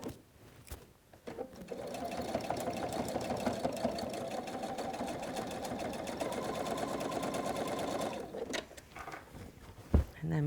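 A sewing machine runs in a long steady stitching burst while sewing the borders of a Hunter Star quilt, with a brief handling clatter before it starts and after it stops.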